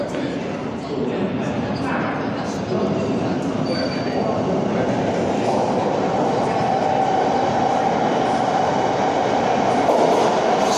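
A Thameslink Class 700 train rumbles steadily into a station, a continuous loud roar of wheels on rails with faint squeals, while a voice talks underneath.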